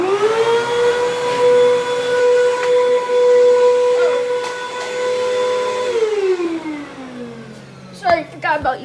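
A Hoover WindTunnel vacuum cleaner with a 12 amp motor runs with a loud, steady, whistling whine, then winds down in falling pitch and ends with a few clicks. Voices can be heard faintly.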